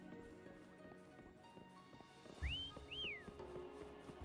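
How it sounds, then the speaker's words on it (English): A whistle in the video game Wuthering Waves rises and falls in two quick sweeping tones like a wolf whistle, clear over a steady game soundscape with faint clip-clop and low rumble underneath. "why did it sound like a wolf whistle?"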